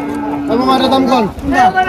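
A Pakistani Sindhi bull calf at a busy cattle market in Faridpur, Bangladesh gives a drawn-out, wavering moo close by, followed by a second, shorter call amid crowd noise.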